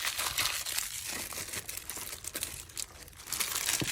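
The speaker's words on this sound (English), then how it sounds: "Now let me just put a bit of tape on that so it doesn't unravel on me." Tape pulled and pressed onto a paper junk-journal item, a continuous close crinkling and tearing rustle with a few sharper crackles, loud and busy throughout, no voices.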